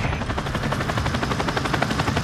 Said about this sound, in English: there's a chopper gun right there